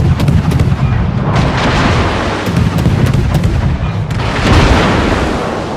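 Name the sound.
naval gunfire in the video game World of Warships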